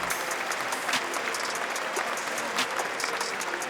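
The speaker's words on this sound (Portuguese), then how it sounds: "Nem mesmo os torcedores do United conseguiram evitar aplaudi-lo." Football supporters in a stadium's stands applaud steadily, a dense, even wash of clapping held at a moderate distance with no voices rising above it.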